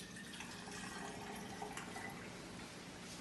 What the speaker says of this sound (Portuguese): a gente vai iniciar esse experimento enchendo a latinha. Não precisa encher totalmente não,